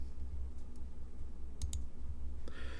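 Computer mouse clicks in quick succession while opening a file in a file browser, sharp and close, with a few faint isolated clicks around them over a low steady hum.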